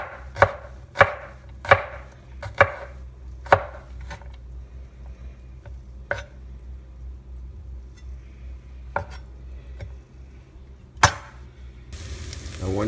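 A kitchen knife mincing peeled garlic on a cutting board for a sauce, sharp distinct chops in a loose irregular series, clustered early then spaced apart, close and fairly loud over a quiet hum.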